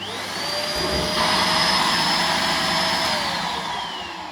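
A Kenmore Progressive DU2001 dual motor vacuum cleaner runs at close range with a loud, steady motor roar and a high whine that swells and then eases slightly near the end, with no talk.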